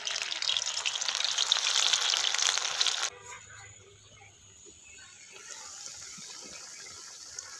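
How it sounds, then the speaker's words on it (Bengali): Sabudana pakoras deep-frying in hot oil give a steady hiss and crackle for about three seconds, close and moderately loud, then it cuts to quieter, faint bubbling sizzle. "এবার বাকিগুলো ঠিক একই রকম ভাবে আমি ভেজে নেব"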